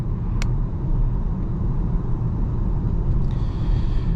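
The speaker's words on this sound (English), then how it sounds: "There's a little bit of tire noise because we have the larger 20-inch wheels" Road and tire noise inside a 2025 Volvo XC40 riding on 20-inch wheels at higher speed, a loud steady low rumble throughout with faint wind hiss above it.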